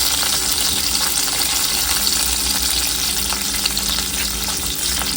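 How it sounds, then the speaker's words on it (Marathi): Curry leaves, green chilli and cumin seeds sizzle and crackle in hot oil in a pan as a tempering, a steady, close, loud frying hiss with faint stirring and no talking. "थोडीशी याला फोडणी जरा परतायची"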